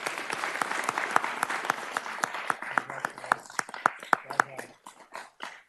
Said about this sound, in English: so please give Jasmine a hand